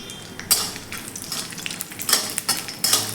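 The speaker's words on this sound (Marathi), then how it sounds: "तूप गरम झालं की त्यामध्ये आपण हे बदामाचे काप घालून घेऊयात सुरुवातीला आणि छान असे आपण हे फ्राय करून घेऊयात" Sliced almonds fry in hot ghee in a pan, sizzling steadily and loudly up close, with bursts of crackle and stirring scrapes as they are moved around.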